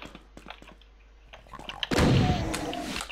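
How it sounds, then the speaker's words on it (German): A shotgun blast in the FreeDoom video game, a single loud, broadband burst that follows a stretch of quiet clicks and rustles and then rings out and decays over the remaining second. "Schießen wir noch wegen Munition mit der Shotgun"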